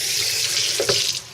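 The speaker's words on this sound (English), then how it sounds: "let me wash my hands now" Tap water runs into a sink as hands are rinsed, a close steady splashing rush lasting about a second with a brief louder gurgle near the end.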